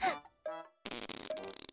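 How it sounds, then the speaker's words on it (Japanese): A short, sputtering fart in a Japanese comedy skit, heard close and fairly loud after a couple of brief squeaky bursts, with no talk over it. "別におならしたいわけじゃなかったのに。"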